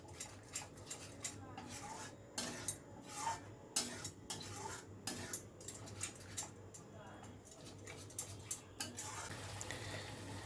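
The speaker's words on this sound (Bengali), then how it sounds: "দিয়ে সব কিছু আবারও ভালো করে মিশিয়ে নিচ্ছি" Cabbage curry being mixed with ground cashew and sesame in a pan, with repeated scraping and clinking of a spoon against the cookware in an irregular rhythm, close and moderately loud.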